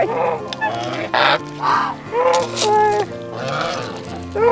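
Geese at Alpaca Hill give a run of loud, nasal honks close by, several overlapping calls in quick uneven bursts with short gaps between them.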